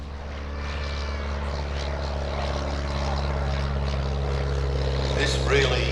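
Auster AOP.6 propeller aircraft, a short-takeoff artillery-spotting type, flying a display at the Midlands Air Festival 2023, its engine drone steady and droning throughout, swelling slightly louder toward the end over crowd ambience.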